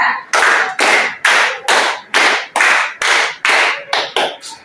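A classroom group claps a counted rhythm pattern in unison: about ten sharp, loud, evenly spaced claps, with the final few coming closer together, and no talking.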